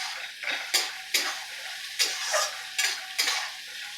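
Flattened rice pulao is stir-fried in a pan, with a spatula scraping and knocking against the metal in six or so sharp, regular strokes over a faint sizzle.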